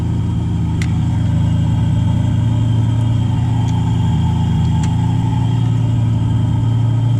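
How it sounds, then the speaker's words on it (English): An idling back-lot car engine with a big exhaust leak, giving a loud steady low rumble and drone with faint ticks throughout, no talking. "So this one has a big exhaust leak from the sounds of it."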